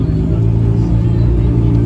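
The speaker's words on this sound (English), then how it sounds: "It's a race car going out onto the runway now" A race car heads out onto the runway at a supercar festival, a steady low engine rumble that stays close and loud from start to finish, with crowd voices mixed underneath.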